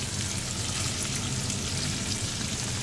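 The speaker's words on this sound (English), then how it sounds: "So the dragon shrimp is cooking in the oven." Dragon shrimp cooking in an oven at a Thai anniversary dinner give off a dense, steady sizzle and hiss that fills the space evenly, with no voices over it.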